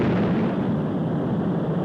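A rocket's first stage separating in a science-fiction scene: a loud, continuous roaring rumble with a bursting, explosive texture, held steady for nearly two seconds before cutting off abruptly.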